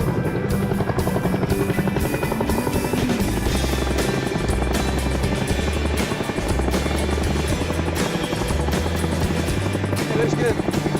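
A Chinook military helicopter lifts off in Afghanistan, a loud, steady rotor thump and turbine roar filling the whole stretch with a pulsing low beat, voices talking faintly beneath it.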